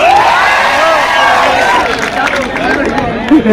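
A crowd cheers and applauds at a lively event, with loud whoops, shouts and clapping blended into a sustained roar of voices and babble that stays strong throughout.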